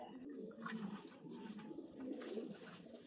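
Tournament racing pigeons coo steadily in soft, rolling bursts, close by and moderately quiet, with faint rustling around them.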